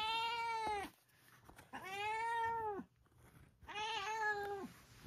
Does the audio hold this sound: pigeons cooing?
no